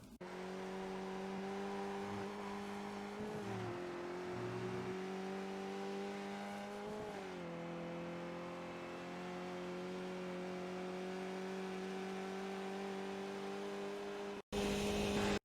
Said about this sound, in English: focus on hitting the acceleration point and step on the throttle